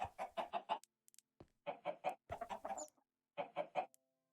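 Cartoonish video-game chickens cluck in short, rapid bursts on a blocky farm, several quick clucking runs separated by brief pauses, clear and alone.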